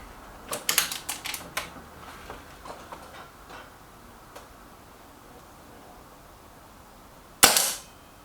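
Air rifles, a Kral NP02 and a Reximex Myth, at a target shoot: a quick run of sharp mechanical clicks and ticks, then a pause before a single loud, close crack of a shot near the end.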